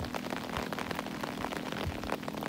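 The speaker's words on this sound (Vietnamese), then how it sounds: "mưa lớn vẫn tiếp tục diễn ra tại tỉnh Quảng Ngãi và các tỉnh miền Trung." Heavy rain pours steadily during flooding in central Vietnam's Quảng Ngãi province, a dense continuous hiss of drops drumming on surfaces with no pauses, loud and close throughout.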